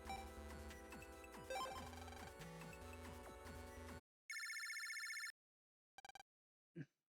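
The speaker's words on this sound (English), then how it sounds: "Lan, looks like a phone call for you." Phone ringtone in the Mega Man Battle Network 2 game, where a loud electronic ring cuts in after game music and sound effects stop, followed by short chime blips and a brief tone.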